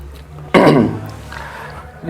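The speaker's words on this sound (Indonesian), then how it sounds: "sorry, agak batuk." A single sharp cough bursts out near the microphone from a man giving a Bible talk, then trails off into quiet room tone.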